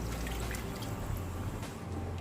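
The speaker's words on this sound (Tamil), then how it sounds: "நான் மெஷர்மெண்ட் கப்பில் 1/2 கப் அளவுக்கு தண்ணி சேர்க்குறேன்" Water from a measuring cup trickles and pours into a pan of simmering prawn gravy, a soft continuous liquid splash at close range with no voices.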